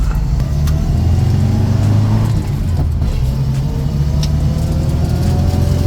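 Old Moskvich car engine running on the move from inside the cabin, a loud steady low rumble with a droning mid-range hum that holds throughout without pause.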